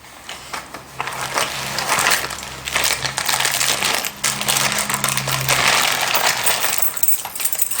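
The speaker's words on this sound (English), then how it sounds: "Front door keys." A bunch of front door keys jingles and clinks in a tense domestic drama scene, with a steady run of small metallic rattles lasting several seconds at close range, and no one speaking.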